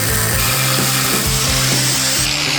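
An angle grinder fitted with a flap disc grinds a steel bolt, a loud continuous whine with a rough, rhythmic grinding texture that pulses as the disc bites, no speech.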